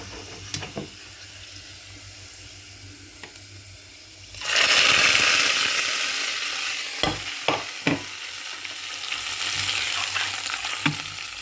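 Dried red chillies roasted in oil are tipped into a curry, a quiet background followed by a sudden loud burst of sizzling hiss that lingers and fades, punctuated by several sharp clinks and knocks of utensils.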